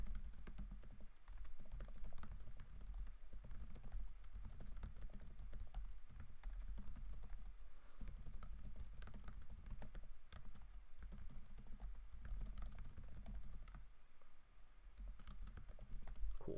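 Rapid clicking keystrokes on a computer keyboard, quiet and close, tapping in quick irregular bursts with brief pauses.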